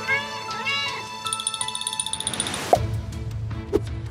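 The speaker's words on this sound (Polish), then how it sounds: "To małe kotki, widzisz?" Small kittens meowing in a high, thin, repeated run of cries close by, followed by a rapid patter of short squeaks and a low rumble over a bright tonal backdrop.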